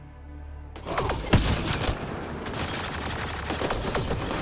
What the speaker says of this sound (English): Oh, I love this sniper rifle